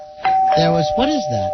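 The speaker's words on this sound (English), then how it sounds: "That's our doorbell" A doorbell chimes once inside a radio studio, a steady ringing tone running beneath overlapping talk.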